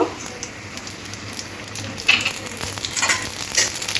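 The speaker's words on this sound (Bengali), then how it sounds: "কাজুটা একটু লাল লাল করে ভেজে নেব" Cashews fry in oil in a pan, a continuous close sizzle with a faint low hum beneath it, growing a little louder and more crackly in the second half.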